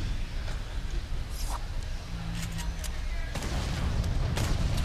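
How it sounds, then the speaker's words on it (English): Grenade launcher fire during a Fortnite match at the Pax West grand final, heard as repeated sharp bursts and booms over constant game noise, with other game sounds layered throughout. "that player with the nade launcher"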